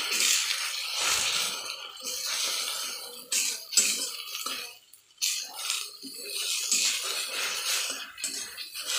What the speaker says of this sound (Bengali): এটাকে আমি একটু নেড়ে নেব।